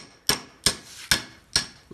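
A hammer strikes a socket to drive the sleeve out of a stabilizer bar bushing on a 1973-87 Chevy or GMC truck, giving five sharp metallic blows at a steady, close rhythm, each ringing briefly before the next.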